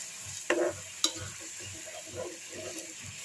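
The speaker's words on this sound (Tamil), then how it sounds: "கொஞ்ச நேரம் கொதிக்கட்டும்." Liquid for homemade soy sauce simmers in a pan, giving a soft, steady bubbling and sizzling with a couple of sharp clicks early on, quiet and close.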